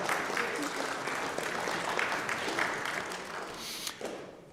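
A congregation at an Erev Rosh Hashana service bursts into applause and cheering, a dense continuous wash of clapping with scattered shouts, loud and close, a voice briefly audible within it.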